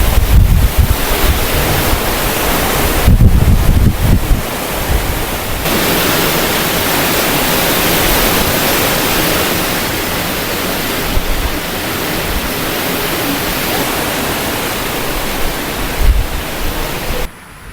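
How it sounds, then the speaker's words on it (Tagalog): Strong typhoon wind roars continuously, buffeting the microphone with heavy rumbling gusts that rise and ease over a long stretch, with no voices. "Pero yung hangin, hindi pa rin nagbabago."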